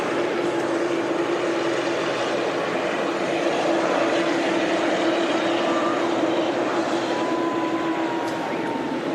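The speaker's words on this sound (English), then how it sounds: "just turning on to finals now, we have the Aer Lingus Retro A320" An Aer Lingus retro-livery Airbus A320 on final approach at Manchester Airport gives a steady, loud jet roar with a sustained whine that holds without a break.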